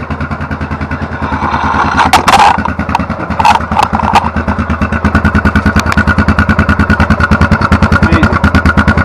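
A 2006 Yamaha Grizzly 660 ATV running on its OEM exhaust, a loud close engine with a steady rapid pulsing thump. A brief burst of throttle comes near the start, then it settles into an even idle.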